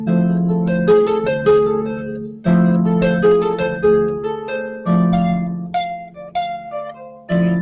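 Blues harmonica plays over a sustained low tone. Quick runs of bright notes rise and fall in phrases, close and loud, with no voices.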